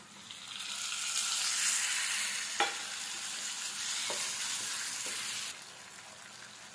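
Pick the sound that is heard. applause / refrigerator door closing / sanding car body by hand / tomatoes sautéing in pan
tomatoes sautéing in pan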